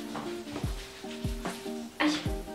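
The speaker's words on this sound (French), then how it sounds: "On va tout mélanger," Hair dye mixture being stirred in a bowl, soft repeated scraping strokes up close with faint tonal ringing in the background.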